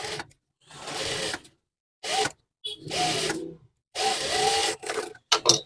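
Sewing machine stitching a zipper onto a fabric bag made from leftover cloth, running in four or five separate bursts of rapid stitching with short pauses between them, close and steady.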